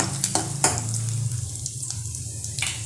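Ingredients fry in a pan for an egg kurma, with a steady, medium-loud sizzle broken by several sharp clinks and scrapes of a utensil against the pan early on, then a quieter simmer, and no talking.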